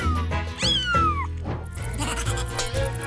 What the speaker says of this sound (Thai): เนี่ยเป็นแมวของฉันเองล่ะ